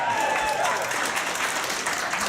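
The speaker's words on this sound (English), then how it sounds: "Don't clap that." An audience at a stand-up comedy show claps in a broad, sustained burst of applause, with crowd noise and some voice mixed in.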